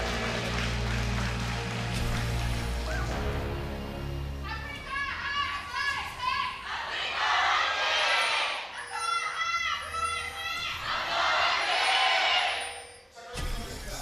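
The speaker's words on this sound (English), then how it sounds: "Huge cheers from the crowd for Samsung." A crowd at a League of Legends esports match in Korea cheers and shouts in loud, swelling waves, with a steady hum underneath.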